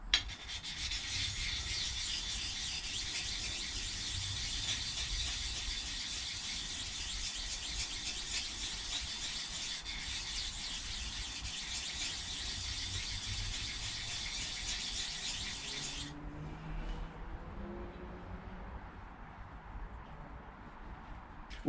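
The back edge of a drawknife blade is rubbed steadily against an axe puck to strip the burr, a continuous close rasping scrape lasting about sixteen seconds before it stops and only faint background remains.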